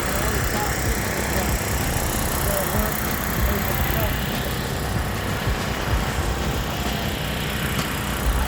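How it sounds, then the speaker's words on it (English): A truck engine idles roughly, steadily and loudly throughout, with an uneven low chug and no clear pauses. "I need to try to get this idling and running a lot better than it is."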